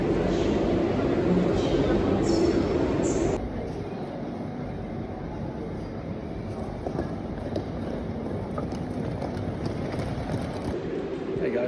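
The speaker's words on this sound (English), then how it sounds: "This is the high-speed train from Malmö to Stockholm." A high-speed train running from Malmö to Stockholm gives off a loud, continuous rumble and rushing roar, dropping abruptly to a lower, steadier drone partway through, with wind buffeting the microphone.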